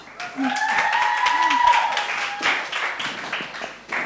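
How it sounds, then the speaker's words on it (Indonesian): Audience applause at a youth church service, light scattered clapping under an ongoing tonal hum and talk from the front, moderately quiet and brief. "tepuk tangan sekali lagi buat Jojo ya"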